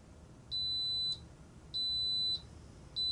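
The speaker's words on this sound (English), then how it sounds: "that beeped several times to let you know the cooking was done." Three steady electronic beeps, each about half a second long, high and clear over a quiet background: an Instant Pot pressure cooker signalling that cooking has finished.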